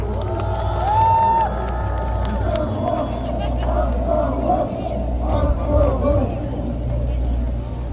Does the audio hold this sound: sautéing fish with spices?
no